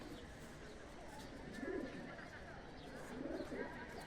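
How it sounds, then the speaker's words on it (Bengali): A breeding pair of Sylheti pigeons coo softly in two low, rolling bursts against a quiet background hum, fairly close by. "নারায়ণদার বাড়ি একজোড়া ব্রিডিং পেয়ার, সিলেটি পেয়ার।"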